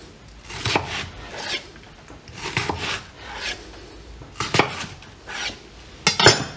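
Knife strokes cutting watermelon into cubes come as several separate bursts of slicing and scraping against a board, evenly spaced and close by, with no talk.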